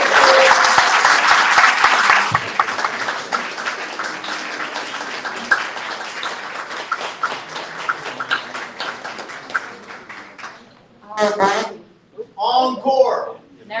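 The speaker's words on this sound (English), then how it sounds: "Let's give them another round of applause, please." Loud, dense applause from an audience at a book presentation, a thick wash of clapping that gradually thins and fades over about eleven seconds before a voice speaks briefly at the end.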